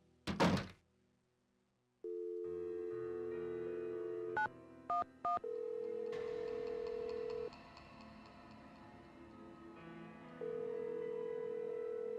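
In a Nancy Drew game, a ticket-booth phone handset lifts with a thunk, a dial tone hums, a few quick keypad tones sound, then a ringing tone pulses quietly on the line.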